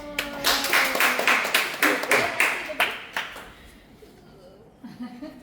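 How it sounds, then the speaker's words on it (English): Students in a book review class session clapping together, a quick run of distinct, fairly close claps that fades out after about three seconds, followed by quiet room noise and a few light taps. "Give applause."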